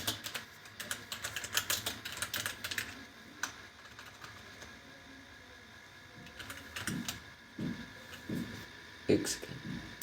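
Typing on a computer keyboard while entering player names into code, quick bursts of light clicking keystrokes up close, then scattered taps later, fairly faint under a quiet background.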